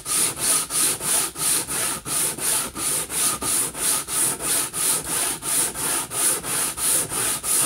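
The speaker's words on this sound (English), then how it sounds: "I just want to start removing the finish." Sandpaper rubs the finish off a wooden guitar neck in steady back-and-forth strokes, about two per second, close and loud with no voices.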